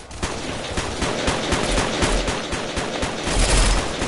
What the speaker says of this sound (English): Stop trying to shoot me, teammate.